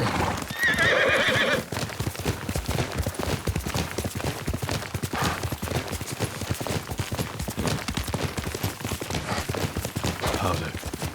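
A horse in the Ghost of Tsushima video game gives a loud, close whinny at the start, then hooves clip-clop steadily at a walking pace, with a brief rustle near the end.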